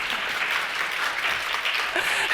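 Audience applause at a leadership talk, a steady dense wash of clapping filling the whole stretch at even loudness with no voices over it.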